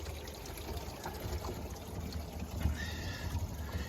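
Bathtub water running, heard from the crawlspace underneath the house: a steady, muffled trickle and rush that continues evenly throughout, fairly faint and without any talk.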